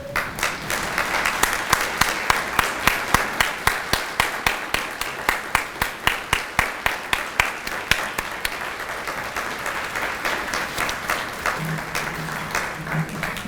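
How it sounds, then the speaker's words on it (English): At a university scholarship brunch, the audience gives standing donors a big round of applause: a full crowd ovation that falls into rhythmic unison clapping, then loosens back into scattered applause, with a voice briefly audible near the end. "we can give you a big round of applause"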